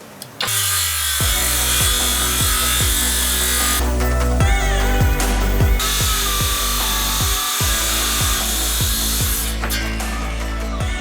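A REVOLT cordless circular saw cuts a wooden board at a 45-degree bevel, its motor whining loudly and steadily up close through the cut, with a brief dip in pitch and a short pause near the middle.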